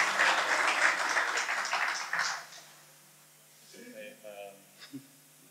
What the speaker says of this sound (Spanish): Aplauso entonces para Patricia Maldonado.